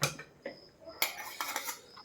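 Dishes and utensils clatter after a home meal, with a few sharp metallic clinks and knocks spaced irregularly. They sound close and moderately loud against a quiet room.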